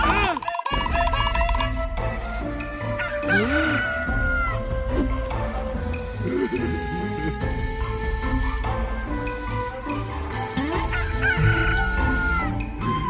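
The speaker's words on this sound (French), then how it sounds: "C'est alors qu'un coq chanta." A rooster crows in a dense musical scene depicting Peter's denial of Jesus, the call sitting among busy orchestral music, animal cries and other sounds rather than standing alone.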